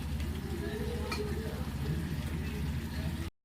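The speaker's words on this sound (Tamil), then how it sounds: "கொஞ்சமாக நெய், கொஞ்சமாக முந்திரி, கொஞ்சமாக திராட்சை பொரிஞ்சு வரட்டும்" Cashews and raisins frying in a little ghee for sweet chakkarai pongal: a steady, close sizzle with light bubbling and stirring scrapes that continues throughout, then cuts off abruptly.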